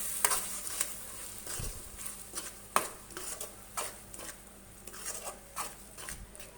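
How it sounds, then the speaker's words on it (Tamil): A utensil scrapes and taps in a pan, stirring paste for a salna curry with irregular strokes, soft sizzling underneath, close and fairly quiet. "ஆட் பண்ணி நல்லா வந்து கிளறி விட்டுருங்க."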